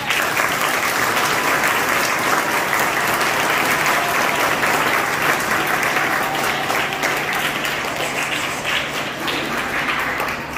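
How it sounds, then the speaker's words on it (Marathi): A school audience marking Marathi Language Day gives the students a sustained round of applause, many hands clapping loudly and steadily with a faint voice underneath. "म्हणजे ह्या मुलांसाठी खरोखरच आपण टाळ्या वाजवल्या पाहिजे तुमच्या मित्रमैत्रिणींसाठी"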